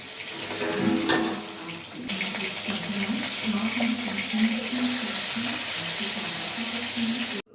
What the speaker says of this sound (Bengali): আমি ভাবলাম এই ঝুড়িগুলো বাসন যা কয়েকটা আছে ওগুলো ধুয়ে নিই